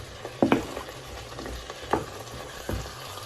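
Cooking oil sizzles in a frying pan heated for pancakes, with a few short crackling bursts over a low background hiss, close and moderately loud, with no voices.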